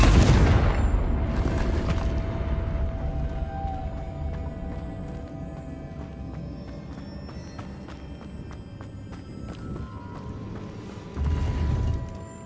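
Confringo blasting spell going off in Hogwarts Legacy on PS4: a loud burst opens, fades into a rumbling tail, and a second heavy impact lands near the end.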